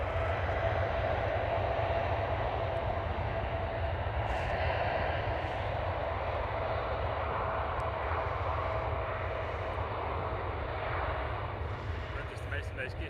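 Steady engine roar of a KLM Boeing 787-10 at Schiphol Amsterdam airport, a continuous broadband jet rumble with a faint whine, holding at an even moderate level and lightly fading toward the end.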